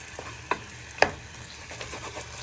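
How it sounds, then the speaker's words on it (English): Chicken thighs sizzle in hot oil in a pot for chicken and chorizo soup while a wooden spoon breaks them apart, giving a constant frying hiss with a few sharp knocks and scrapes, no voices. "You're going to place all your chicken thighs in. You're going to get your wooden spoon and you want to break them apart."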